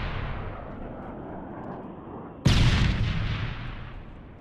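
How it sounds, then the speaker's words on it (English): Gunfire from a submachine gun in a first-person shooter game: a sudden loud burst at mid-clip that then decays away, with steady game background noise before it. "Oh, I got the submachine gun. I'm going to try to kill this."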